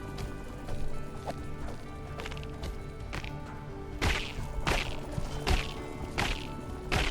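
Sharp whacks as mobs are hit in Minecraft, a handful of crisp thwacks spaced irregularly over a dense game background of rustling ambience, fairly close and without talk.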